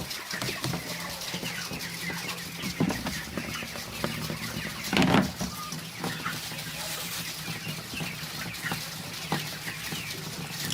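Broiler chickens on a farm cluck and murmur over a constant low hum of housing or equipment, with one louder squawk near the middle.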